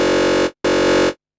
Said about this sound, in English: I'm going to use a wavetable that comes with the new pack